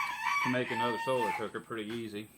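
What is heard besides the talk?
chicken crowing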